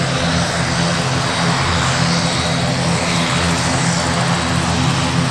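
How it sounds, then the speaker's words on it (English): An ATR 72 turboprop airliner taxiing onto the runway at Farnborough Airshow gives a loud, steady propeller and engine drone that holds unbroken throughout, with no talk over it. "ATR moving out onto the runway."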